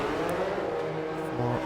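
Engine of a race car in a racing video game, droning steadily and shifting pitch slightly as it slows into the pits, a continuous mid-level hum with no voices over it.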